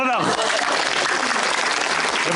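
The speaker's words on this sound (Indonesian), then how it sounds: "Tepuk tangan lo dong." Studio audience applause on a television religious talk show, a broad steady clatter of clapping that follows a brief voice at the start and continues evenly at moderate volume.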